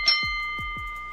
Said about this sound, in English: So, Max, keep the bell ready, and you can forget about the buzzer